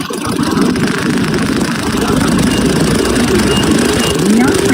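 A Honda Scoopy motor scooter engine runs with a loud, constant, rough drone that stays steady for the whole stretch, with voices mixed in underneath.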